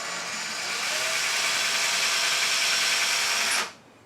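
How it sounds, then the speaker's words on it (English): A power drill bores a short way into a wall while a coat rack is being mounted, a steady loud whine running for about three and a half seconds before stopping abruptly, with no voices. "So we're going to drill very little."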